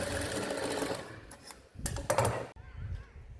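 A sewing machine runs in quick bursts while double-stitching a semi high neck blouse, whirring close and loud, pausing briefly between short runs of stitches.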